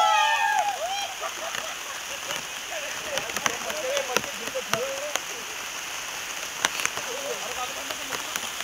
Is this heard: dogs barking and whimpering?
no